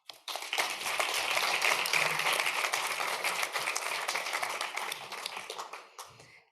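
An audience claps at a youth-focused event, a dense burst of steady applause that rises quickly, holds for several seconds and then tapers off to silence.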